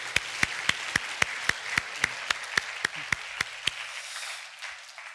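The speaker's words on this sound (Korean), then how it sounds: "우리 격려와 축복의 박수 부탁드립니다." A church congregation applauds the choir and accompanists after a Sunday service performance, a soft wash of many hands with one close, steady clapper keeping a regular beat on top, gradually tapering off.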